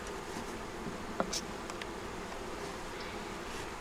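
Honeybees hum in a steady, faint drone around a hive box holding a yellow queen, with a few louder buzzes as single bees fly close past.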